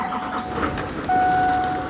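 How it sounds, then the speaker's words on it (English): A bus engine idles in a steady, low rumble before pulling away, with a thin whine rising partway through; continuous and close, with no talking. "I'm just letting this bus run for a little minute before I take off"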